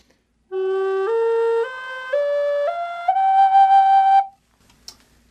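An Amboina burl wooden flute plays a basic minor scale, seven or eight clear breathy notes stepping upward one after another, close and solo, ending with a short soft thump.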